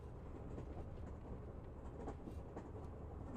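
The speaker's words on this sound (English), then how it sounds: "The train departed from platform 4 at precisely 10:04 p.m." A night train runs steadily on its rails with a continuous low rumble and faint rhythmic clatter, heard from inside a carriage with no break.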